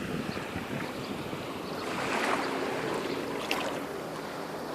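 Waves of the Ionian Sea wash onto a pebble beach on Corfu, a soft continuous rush with light wind noise, swelling slightly midway, no voices.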